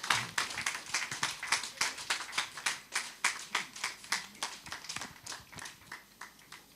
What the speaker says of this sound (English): A round of applause for my Lord as he walks to his seat.